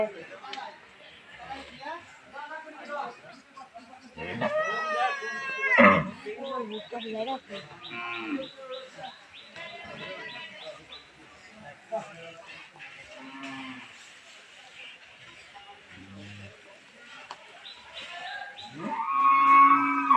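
Cattle for the Eid al-Adha sacrifice moo in drawn-out, deep calls between stretches of nearby chatter, with people talking and shouting throughout.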